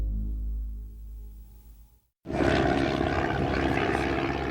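Propeller airplane drones loudly in flight, a steady engine roar that cuts off briefly and returns at full strength after a short gap.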